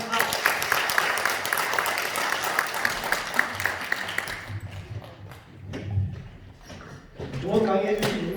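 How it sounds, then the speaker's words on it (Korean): Audience applause at the close of a lecture for community self-government leaders in Gumi, a dense patter of clapping lasting about four seconds before fading into room murmur and an announcer's voice. "좋은 강의해 주신 박진희 강사님께 다시 한번 큰 박수 부탁드립니다"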